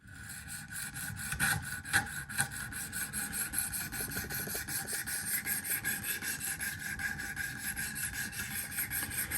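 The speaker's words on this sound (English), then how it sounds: "So now I've got the 400 and 600 grit stones." Knife blade being sharpened on 400 and 600 grit stones on a Wicked Edge guided sharpener, a steady rhythmic rasping of stone strokes along the edge, close and quiet, no talking.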